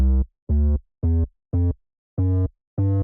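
A bass and 808 track in Soundtrap: six deep, booming notes in a steady pulse, each held briefly then cut, loud and close with silence between.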